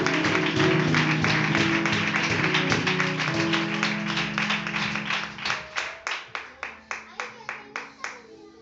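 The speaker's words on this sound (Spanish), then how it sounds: "Dale un aplauso a Gloria a Dios." Congregation in a Pentecostal-style church in Madrid claps along, dense and loud at first with voices and music underneath, then thinning to a slow series of distinct single hand claps near the end.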